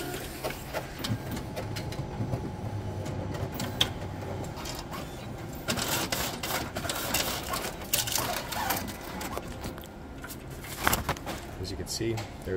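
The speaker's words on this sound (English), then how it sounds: "We're gonna go corner staple." A copier finisher corner-stapling paper clatters and whirs mechanically, with a sharp click near the end, under scattered talk and room noise.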